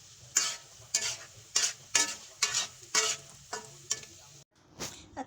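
Coated eggplant fries in hot oil in a pan (kawali), heard as about nine rhythmic bursts of loud sizzling roughly every half second, with a brief pause near the end.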